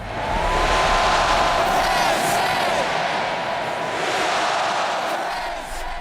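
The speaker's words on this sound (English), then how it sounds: "there's a collective effervescence as the crowd cheers in the stadium" A huge crowd roars and cheers at a Penn State home football game in the stadium, a sustained, distant-sounding wash of voices with swells and whoops throughout.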